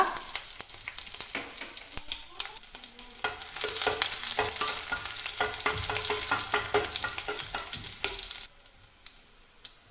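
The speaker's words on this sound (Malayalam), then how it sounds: "കടുക് പൊട്ടിയതിന് ശേഷം ഒരു ചെറിയ ഉള്ളി ഇതേപോലെ ചെറുതായി അരിഞ്ഞിട്ട് ഇതിലേക്കൊന്ന് ചേർത്ത് കൊടുക്കുക" Chopped shallots sizzle in hot oil with popped mustard seeds, a loud, crackling fry with scattered spatters that runs steadily and then drops to a softer hiss near the end.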